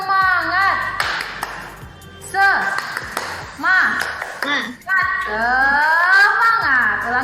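A primary school class of children performs a rhythmic group clapping chant, sharp hand claps interspersed with lively voices from the teacher and kids speaking and calling out together.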